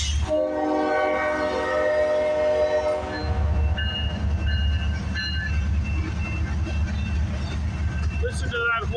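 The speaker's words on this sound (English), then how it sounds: "Listen to that horn." Horn of CPKC freight train 528, led by locomotive 8871, blowing long and loud at close range while the heavy rumble of the passing train continues underneath.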